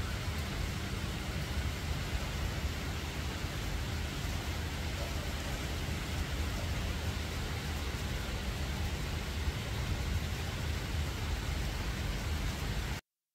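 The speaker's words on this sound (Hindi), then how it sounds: "जब मैं सुबह उठी तो देखिए कितनी तेज़ बारिश हो रही थी" Heavy early-morning rain pours steadily at about six o'clock, a dense, continuous hiss that stays loud and even throughout with no talking.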